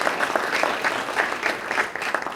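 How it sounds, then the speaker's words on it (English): Audience applause at a school alumni association induction ceremony honoring inductees, a lively sustained burst of clapping from a hall crowd with irregular individual claps standing out. "Round of applause."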